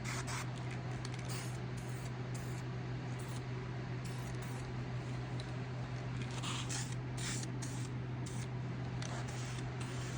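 Steady, soft hiss of an aerosol spray can laying a heavier coat of paint on a 2021 RAM Rebel front emblem, continuous with small pulses as the nozzle sweeps, over a constant low hum.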